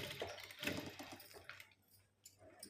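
A sewing machine stitches a latkan thread onto a blouse in a few short, soft whirring runs with brief gaps, faint and close by.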